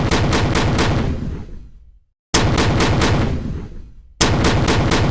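Three loud projectile-launcher shots from a video game, each a sharp blast with a long decaying tail, with a brief silent gap between the second and third, no voices present.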